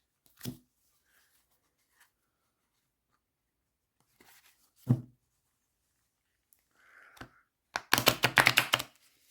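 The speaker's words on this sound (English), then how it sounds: "They're easy to shuffle." Radiant Rider-Waite tarot cards are shuffled in a few short, scattered bursts of soft rustling and snapping, ending in a louder riffle that flutters rapidly, all close and quiet.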